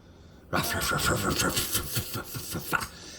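A voice imitates a steam locomotive with rhythmic breathy chuffing bursts that start abruptly and carry on, loud and close.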